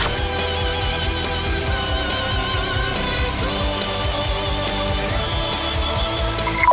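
Symphonic metal plays loud and dense, with driving low drums, layered guitars and sustained orchestral tones, no voices over it.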